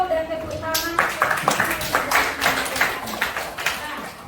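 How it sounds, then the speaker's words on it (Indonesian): Students in a classroom break into a round of clapping, a quick irregular patter of hands that starts after a short spoken prompt and continues steadily with voices mixed in. "kita kasih jempol dan tepuk tangan"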